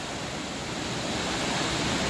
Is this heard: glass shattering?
no